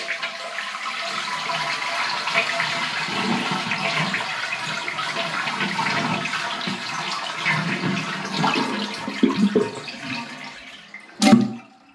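A toilet flushes to empty its tank during a supply valve replacement, giving a long rushing, gurgling drain close by that ends in a sharp final gulp as the tank runs dry.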